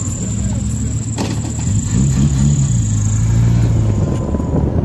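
Onboard a Caterham sports car on a race track, the engine drones loudly and rises in pitch as it accelerates, with wind buffeting the microphone throughout.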